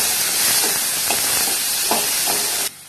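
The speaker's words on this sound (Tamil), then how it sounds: "அதையும் நல்லா வதக்கிக்கலாம் கூட சேர்த்தி." Garlic and chopped tomato sauté in a pan for a Tamil mushroom gravy. A loud, steady sizzle is broken by several soft stirring scrapes and ends abruptly.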